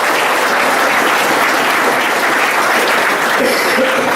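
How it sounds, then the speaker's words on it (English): An audience of children applauds continuously, with loud, dense, sustained clapping throughout. "I think all of you require a great clap for your hands."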